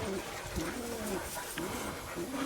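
Pigeons in a coop converted from an outhouse coo softly and repeatedly at close range, with low rolling calls overlapping in a busy, muffled indoor space.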